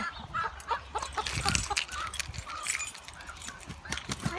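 A set of keys jangles and rattles close by while someone unlocks chicken cages. The metallic clinks are light and irregular, with faint farm and animal sounds behind them and no speech.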